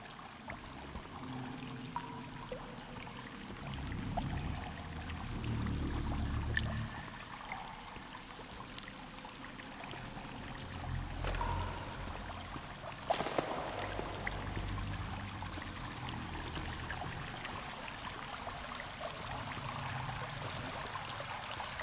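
Steady rushing and trickling water in the video game Sons of the Forest, inside a cave, runs throughout, a continuous wash of sound with a few faint knocks and a brief swell near the middle.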